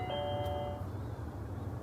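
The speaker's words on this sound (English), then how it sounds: "Just sounds like a regular doorbell to me." A doorbell chimes once with a clear ding-dong past midnight, its tone ringing out over a low steady hum before fading.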